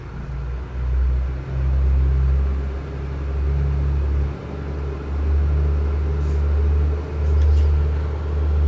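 Twin engines of an A2A AeroStar 600 in a flight simulator run up to 1500 RPM, a steady low drone that swells and eases in a few surges, close and continuous with no talking.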